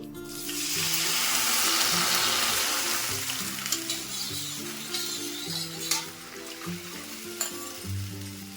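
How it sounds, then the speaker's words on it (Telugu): Wheat flour water is poured into hot ghee in a pan and stirred, giving a loud close sizzle that slowly settles into bubbling, with occasional scraping knocks of the spoon and a steady low hum beneath. "ఇప్పుడు అదే నెయ్యిలో మనం ఫిల్టర్ చేసి పెట్టుకున్నాం కదండి, ఈ నీళ్లు మనం గోధుమ పిండి నీళ్లు ఇందులో వేసేసుకోవాలి."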